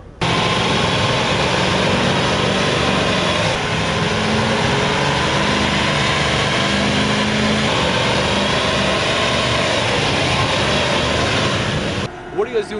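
A DiabloSport-tuned Chevy Avalanche with a Duramax diesel conversion runs hard on a dyno, producing a loud, steady broadband roar that holds nearly unchanged before cutting off near the end.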